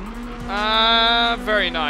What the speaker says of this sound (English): Those are some good drifts going on through there